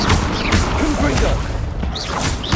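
Confringo explosive spell blasts in the Hogwarts Legacy arena battle, dense crashing bursts and whooshes amid continuous combat noise, with speech mixed in.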